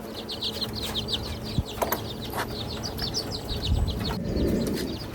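Baby chicks in an open cage give rapid, high cheeping peeps that repeat steadily throughout, close by, with a few soft thumps and a low rustle near the end.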